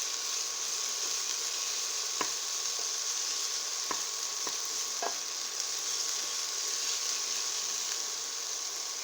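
Green peppers and onion sizzle steadily in a pan, a continuous hiss with a few sharp clicks of a utensil stirring, no voices.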